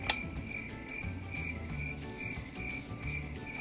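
Crickets chirp steadily in a soft, continuous trill, faint and even throughout with no voices.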